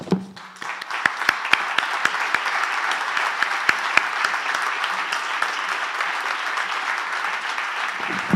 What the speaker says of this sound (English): I invite you to applaud him